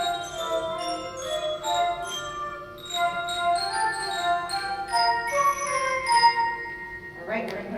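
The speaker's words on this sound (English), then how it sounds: "And our flute and bell section" A seventh-grade school band's flute and bell section plays at a winter concert, sustained flute tones and bright ringing bell notes moving through a melody in a steady rhythm, fairly loud and close with no talking.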